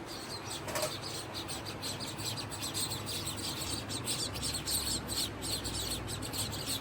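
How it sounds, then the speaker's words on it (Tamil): Many sparrows chirp and twitter busily together, a dense, steady chatter with wings fluttering nearby. "ஒரே குருவி சத்தம் கேட்குதா"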